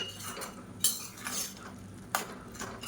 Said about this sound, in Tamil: இது எல்லாத்தையும் நல்லா கலந்து விட்டுக்கலாம்.